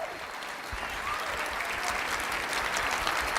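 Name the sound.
audience applause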